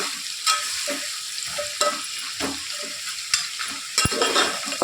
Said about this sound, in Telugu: దీనంతా ఒకసారి మంచిగా కలిపేసుకొని మన ఉల్లిగడ్డ కొంచెం మగ్గాలి.